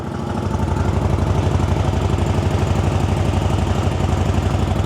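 A loud, close ZFORCE 950 UTV engine with an aftermarket exhaust idles with a deep, rumbling exhaust pulse, steady and throbbing throughout without any talking.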